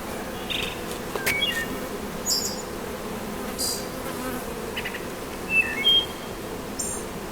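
Honeybees from a package of about ten thousand bees with a queen give off a steady low buzz, and single bees fly close past now and then in short, louder passes. No one speaks.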